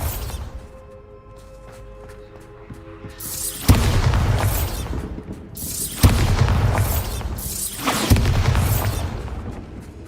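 Bombarda blasting spells in Hogwarts Legacy go off three times, each a sudden loud boom with crumbling, shattering debris and a rumbling tail, after a quieter stretch of faint ambient tones.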